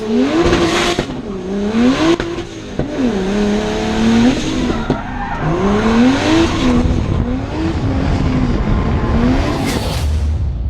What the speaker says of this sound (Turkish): el freni bırakarak gaza oturur ve otomobilin artık traksiyon alarak kontrollü bir şekilde drifte başlatırsınız